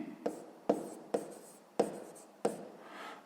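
Pen or chalk strokes writing numbers during a sixth-grade maths exercise, five sharp scratching bursts at a steady pace, each fading quickly, close and clear with no talk.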